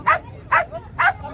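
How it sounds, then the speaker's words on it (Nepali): A puppy gives three short, evenly spaced, high-pitched yelping barks with a crying, whimpering edge, close by and alone. "कस्तो कराएको है त्यो खुच्ची"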